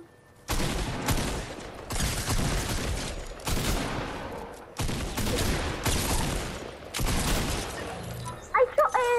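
Repeated loud shotgun blasts in the Fortnite video game, heavy booming bursts in quick succession with brief gaps, close and dominant, ending with a few sharp clicks.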